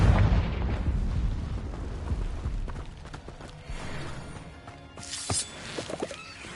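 The Confringo blasting spell in a Harry Potter video game goes off as a heavy, rumbling explosion that fades out, followed by a few sharp, bright pops and crackles.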